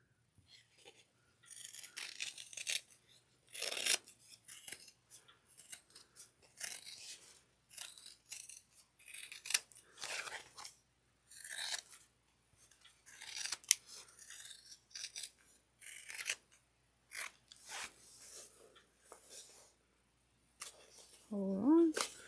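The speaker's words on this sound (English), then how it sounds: "And then I'll trim all the way around." Scissors trimming around the edge of a fabric zippered ID case, with many close, crisp snips repeating in uneven bursts over twenty seconds and a brief voice near the end.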